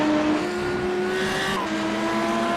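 Race cars in iRacing at Barcelona cross the finish line, loud engine whine holding high pitch with a slight drop near the end, continuous and close.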